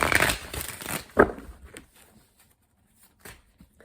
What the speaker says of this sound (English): We're going to do 3 major shuffles right now.